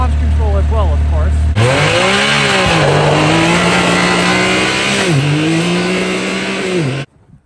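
Yamaha YXZ 1000RR side-by-side with a clutch and launch control, its engine revving hard and loud up close, the pitch climbing and dipping through several surges across the stretch before cutting off abruptly near the end.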